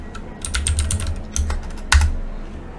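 Keystrokes on a computer keyboard as a terminal command is typed, a quick run of close, crisp clicks followed by a few separate harder key presses, heard alone without talk.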